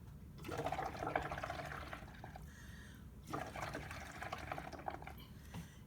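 Air blown through a straw into a cup of liquid makes gurgling, bubbling bursts, two long stretches of bubbling separated by a short pause, close and fairly soft.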